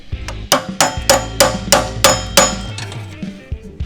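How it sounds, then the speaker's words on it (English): A hammer strikes and chips at old weld on a GMC K20 truck part, about eight sharp metallic blows in an irregular rhythm, close and loud with ringing overtones and no talk. "I want to chip some off to see if it's JB weld."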